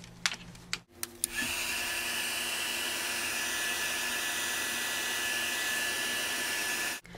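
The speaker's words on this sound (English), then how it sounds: "And then I'm going to heat it to dry." A heat tool blows hot air to dry ink on a craft tag, a loud steady whirring roar that starts after a second of quieter clicks and runs alone, close up, until it shuts off at the end.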